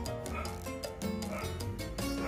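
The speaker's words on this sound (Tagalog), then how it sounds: "kumakahol si Phil." A dog barking and yipping in short bursts during a Filipino boodle fight meal of assorted grilled foods, including grilled milkfish and chicken, at home, set against a dense, busy background.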